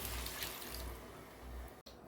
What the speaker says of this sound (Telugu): ఇప్పుడు ఇందులో వాటర్ పోసుకోవాలి